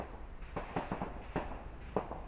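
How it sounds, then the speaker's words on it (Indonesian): Several sharp, separate video game gunshot bangs go off in an uneven sequence over a steady low background, with no talking. "Ngeri juga tembakannya, Jimmy."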